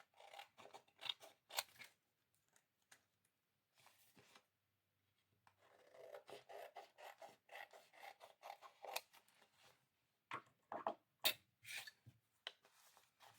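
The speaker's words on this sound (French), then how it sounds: "je vais découper le surplus de papier" Scissors snip repeatedly through excess paper around glued felt for a gnome's hat, with close, crisp bursts of cutting and rustling broken by short quiet pauses.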